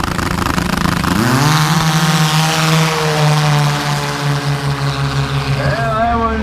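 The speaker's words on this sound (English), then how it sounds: "Precision turbo engine." A loud, revving turbocharged race snowmobile engine races steadily, its pitch climbing and holding high, with a raspy buzzing whine close by and a shift near the end.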